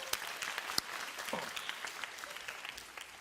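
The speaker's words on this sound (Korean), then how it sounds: "우리 준비생께 박수." Applause from a church youth-service congregation in Gunsan, a soft, dense patter of clapping that continues evenly for a few seconds with a faint voice mixed in.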